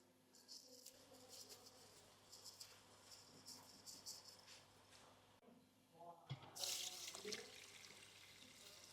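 Broken rice and moong dal being washed by hand in a bowl of water, with soft sloshing and swirling water sounds, a brief louder splash near the end.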